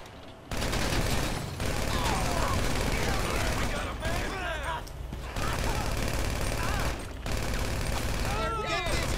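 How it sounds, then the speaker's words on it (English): Sustained gunfire in GTA 5 Online, a dense continuous rattle of rapid shots broken by short pauses, with a voice talking over the shooting. "Who's shooting at me now?"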